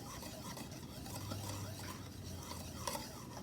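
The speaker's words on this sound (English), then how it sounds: "And the salt and baking soda. So just gonna whisk like so." Baking powder, salt and baking soda are whisked in a bowl, a soft, fast, rustling scrape that goes on without a break and stays quiet and close.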